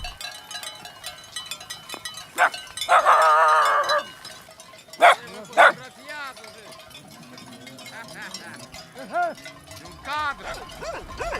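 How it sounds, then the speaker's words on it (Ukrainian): Four dogs herding sheep in Moldova bark in short bursts, some loud and close, others farther off, with sheep bleating and people talking in the background. "Їх четверо собак женуть вівці разом з ними."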